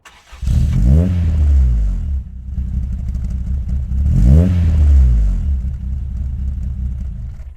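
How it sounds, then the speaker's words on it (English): A 1991 Nissan 180SX, a Japanese-import S13, idles roughly, then revs up and falls back twice in strong, close, rumbling sweeps. "This is my 91 180SX, imported from Japan."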